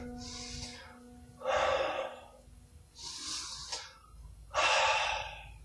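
Heavy, labored breathing after star jumps: four loud gasping breaths, alternating short sharp inhales with longer exhales, close and alone.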